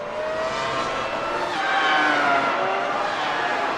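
A Dallara IR-01 race car drifting at Barber in a racing sim, its tires squealing loudly against a continuous engine roar. The skid rises and falls in pitch for a few seconds.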